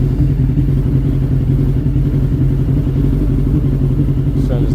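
A Suzuki Bandit 1200S MK1 motorcycle engine idles loud and close after a clutch upgrade, with a steady, even low rumble throughout.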